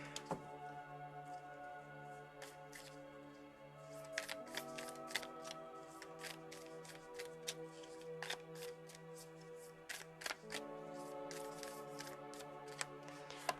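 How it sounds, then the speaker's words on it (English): A Lover's Oracle card deck is mixed by hand, a soft, quiet run of papery riffles and flicks with sharp little card snaps scattered throughout, no voice. "It's hard to shuffle, so we're doing the best we can."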